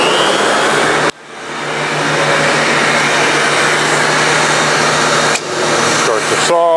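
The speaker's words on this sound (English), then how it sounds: "This is gonna make a lot of dust, so I'll turn on a dust collection system." Dust collection system roaring steadily in a woodworking workshop before a tooling board cut, a loud continuous broadband whoosh with two brief dips where it cuts out and restarts, plus a faint whine near the end.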